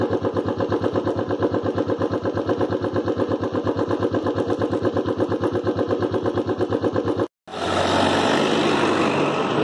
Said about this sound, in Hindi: मैं बाइक स्टार्ट कर लेता हूँ अपना